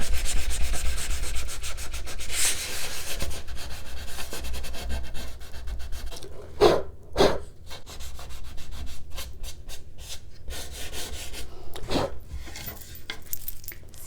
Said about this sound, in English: So just a really, really, really fine grit sanding sponge works great